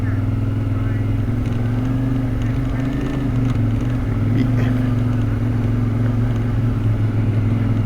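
A dirt bike rides a rough, hilly, badly surfaced road, its engine droning steadily and loudly at close range with wind rumble and small shifts in pitch.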